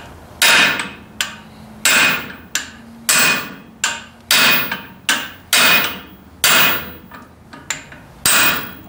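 A pivot pin being hammered into the front axle of a 1944 Ford 2N tractor, a series of about fifteen loud, sharp metallic strikes in an uneven rhythm, each ringing briefly before the next blow, close by with no talk.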